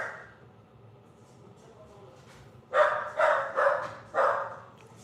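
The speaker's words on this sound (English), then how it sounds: "My dog out there going crazy about something." A dog barks outside at night: four sharp, loud barks come in quick succession after a quieter stretch of low background noise.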